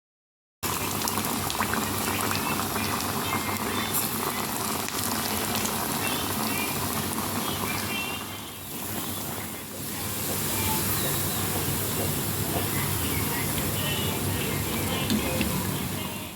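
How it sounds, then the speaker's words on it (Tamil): Lentil vadas mixed with drumstick leaves deep frying in oil over low heat, a dense, continuous bubbling sizzle that stays close and loud throughout, dipping briefly near the middle, with no talk. "இப்போ நம்ம இந்த வடையெல்லாம் பொரிச்சு எடுத்துக்கலாம்."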